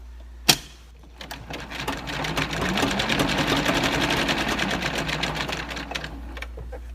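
A sewing machine runs steadily for several seconds, stitching the corners of a fabric seed storage bag, with a sharp click just before it starts.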